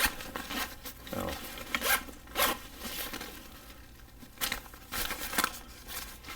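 A zipper on a pouch of a single-sling pack rasps open and shut in several quick, close pulls, with rustling fabric and handling noise in between, while someone talks.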